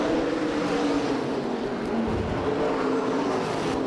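A USA Modified stock car races past at Winchester Speedway, a steady loud engine drone with a slight dip and swell midway, heard alone without voices.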